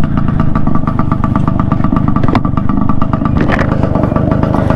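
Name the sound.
Suzuki X4 two-stroke motorcycle engine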